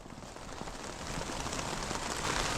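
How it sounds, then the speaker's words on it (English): Steady rain drums on a tent at night, a dense, even patter close overhead that swells slightly louder toward the end, with no voices. "The rain just, if anything, picked up a little bit, so Steph's in bed over there."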